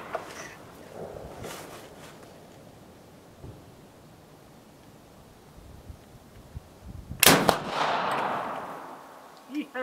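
A single shot from a French Chassepot black powder rifle: one sharp, loud blast late in an otherwise quiet outdoor stretch, followed by a rolling, fading rumble.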